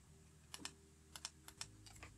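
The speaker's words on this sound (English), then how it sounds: "Now I can type in." Typing on a computer keyboard while editing landscape photos: a few quiet, crisp key clicks in small irregular clusters, close and isolated against a faint background hum.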